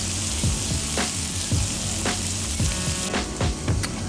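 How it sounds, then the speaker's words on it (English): Plantains frying in butter in a pan, giving a steady, dense sizzle throughout with a series of soft, regular clicks and scrapes from moving them in the pan, no voices. "we're gonna layer the plantains inside the pan with the butter while it's still buttering"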